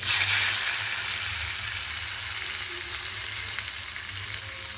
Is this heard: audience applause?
no